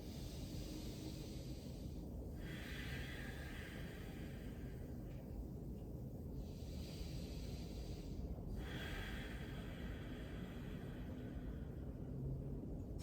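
Slow, deep breaths during a yoga straddle fold, airy inhales and exhales at a relaxed pace, faint and close against a low background hiss.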